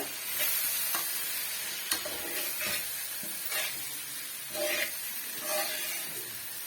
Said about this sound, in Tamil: இப்ப மீடியமான பிளேம்ல வச்சு இதை மிக்ஸ் பண்ணி கொடுத்துக்குங்க